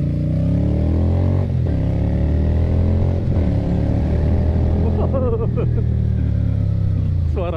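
Keeway V250FI Geronimo American-style cruiser motorcycle idling loudly through its stock exhaust, a steady low rumble close up throughout, with someone talking over it.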